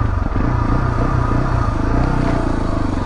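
A Beta dirt motorcycle rides off-road along a chalky green lane in Surrey, its engine a steady, close, loud drone with low pulsing and some clattering, running continuously with no one talking.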